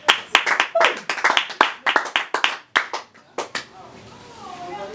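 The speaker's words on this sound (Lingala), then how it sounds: "Applaudissements" A crowd at a Congolese sermon breaks into sharp, uneven handclaps, a quick burst of close claps that thins out and gives way to murmuring voices.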